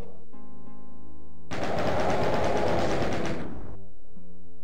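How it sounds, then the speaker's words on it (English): Doom's chaingun fires in a rapid sustained burst lasting about two seconds, loud and close, set between stretches of game music and ambience. "Chain gun seems to be the way to go"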